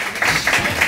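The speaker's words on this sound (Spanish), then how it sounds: "¡Un aplauso!" Studio audience at a Spanish television show breaking into brief applause, a short burst of bright clapping at moderate loudness.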